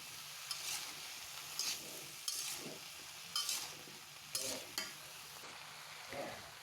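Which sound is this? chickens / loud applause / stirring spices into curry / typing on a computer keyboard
stirring spices into curry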